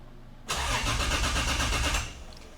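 A Toyota 2JZ engine swapped into a 4Runner cranking briefly and then catching in its first start, a close, loud rapid chugging run lasting about a second and a half before cutting out.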